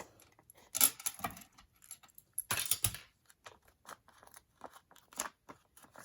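Paper snips cut through adhesive dimensionals in a quiet craft setting, giving a few sharp, close snipping clicks and small crunches scattered irregularly, with light handling noises in between.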